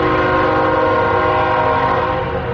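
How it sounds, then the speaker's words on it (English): A train passes close by with a loud, sustained horn blast that holds steady for the whole stretch over the rumble of the rail cars. "Love the sound of a train."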